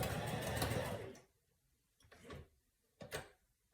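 A sewing machine stitches a messy ruffle onto fabric with a steady rapid whir for about a second, then stops, followed by two short separate bursts of stitching.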